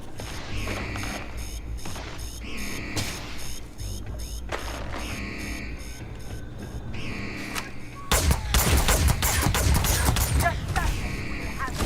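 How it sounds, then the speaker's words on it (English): A repeating electronic alarm sounding inside the space station game Space Base Builder, a rhythmic pulsing tone cycling every second or so over busy game noise, growing louder and harsher near the end. "Somebody set the alarm off on me."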